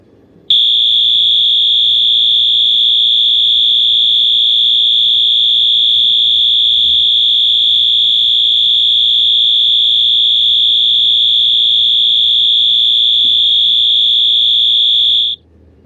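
A Wheelock AS fire alarm set to continuous mode gives off a piercing, steady high-pitched tone. It begins abruptly, holds at full loudness for about fifteen seconds without any pulsing, and then cuts off sharply.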